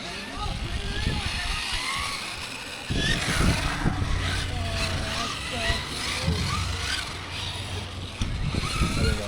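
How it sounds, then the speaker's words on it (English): A Kyosho 1972 Mazda Savanna GT radio-controlled car runs laps on an indoor track, its thin electric whine rising and falling as it passes, with voices talking over it. "we got the Kyosho Mazda Savanna out for its first maiden run on the track"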